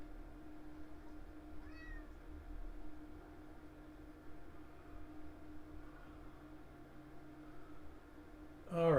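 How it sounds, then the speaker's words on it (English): A house cat gives a couple of faint, drawn-out meows in a quiet room over a low background hum, and a sudden louder knock comes at the very end. "All right, I gotta chase the cat out of here."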